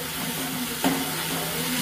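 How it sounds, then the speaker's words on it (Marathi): Onion frying with garlic in a pan for a pasta dish, a steady close sizzle with soft stirring scrapes and one brief louder clack partway through, no talking. "मस्त कांदा आता आपल्याला लसणामध्ये परतून घ्यायचा छानपैकी असा।"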